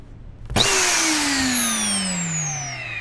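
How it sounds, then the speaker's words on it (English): A vacuum cleaner in a horror video game switches on abruptly with a loud whirring roar, then holds a steady drone whose motor pitch slowly sinks as it runs. "Oh, it was just the vacuum cleaner."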